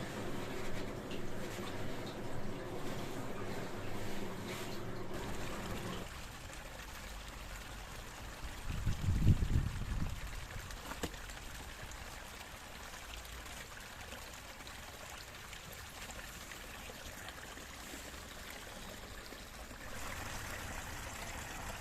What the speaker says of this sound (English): you can see the beautiful clear water running off down into the distance